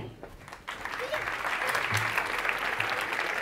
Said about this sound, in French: Mesdames et messieurs, s'il vous plaît, nous pouvons les applaudir plus fort que ça